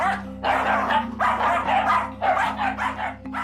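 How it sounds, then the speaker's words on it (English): Two dachshunds scuffle on a sofa with fierce, continuous barking and snarling in close bursts, with short breaks between the flurries. "With her canines clashing, Claire tries to comfort Lincoln."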